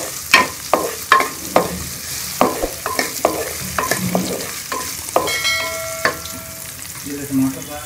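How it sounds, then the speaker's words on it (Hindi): Tomato chutney ingredients fry in a pan, a steady sizzle broken by repeated sharp scrapes and clinks of a spoon stirring, close and fairly loud, with no voices. "हम इसको एक मिनट के लिए फ्राई करेंगे।"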